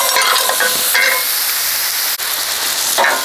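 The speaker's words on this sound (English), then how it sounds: "we're going to work on a little caramelizing of the onions" Onions caramelizing in olive oil in a pan, a loud continuous close sizzle with bursts of stirring scrapes near the start, around one second and at the end, no voices.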